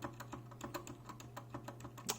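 Someone types at an even pace on a Logitech G Pro X mechanical keyboard with GX Red linear switches. The keystrokes are close and fairly quiet over a low steady hum, and a sharper clack lands near the end.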